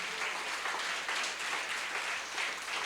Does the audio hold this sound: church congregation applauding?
yes